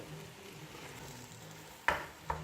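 A spoon stirs minced meat and vegetables in a pan for hachis parmentier, a soft steady scraping over a faint low sizzle, with two sharp clinks of the spoon against the pan near the end.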